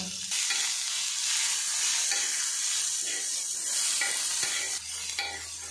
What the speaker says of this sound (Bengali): এই টমেটো কিন্তু খুব বেশি নরম করে ভাজা যাবে না, হালকা করে এটা ভেজে নিতে হবে